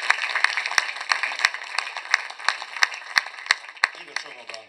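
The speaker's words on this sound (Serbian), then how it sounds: "Pa idemo aplauz za sve njih" An audience at a live music evening claps in a steady, even rhythm for birthday wishes, with sharp individual claps standing out and voices underneath, fading near the end.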